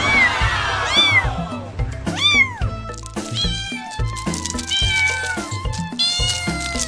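A battery-powered plush toy cat meows again and again, high sweeping mews repeated over a steady low hum, loud and close.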